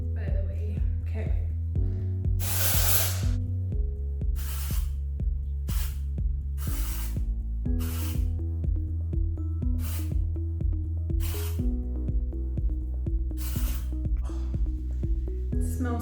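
Dry shampoo is sprayed onto hair in several short hissing bursts spaced a second or two apart, over steady background music.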